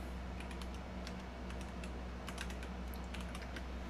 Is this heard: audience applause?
no